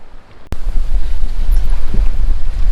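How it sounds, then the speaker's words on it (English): Gusting wind buffets the microphone over the wash of waves against the hull of a sailboat underway near Bodrum, a steady loud roar that surges in after a brief quiet moment, with no speech. "The wind is starting to fill in a little bit."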